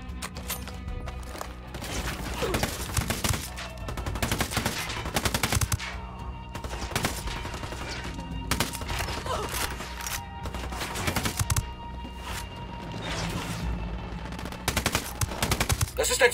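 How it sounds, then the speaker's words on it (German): Gunfire in the video game Ghost Recon Wildlands, repeated bursts of rifle and automatic fire cracking at irregular intervals over a busy game soundscape, no talking. "Ich schieße auf die Ärsche."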